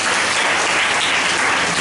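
A church congregation claps loudly in dense, continuous applause that fills the whole moment with no voices over it.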